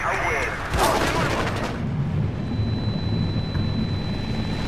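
Gunfire cracks loudly in a Battlefield war game, with a cluster of close sharp shots at the start followed by a low continuous rumble of distant battle and engine noise.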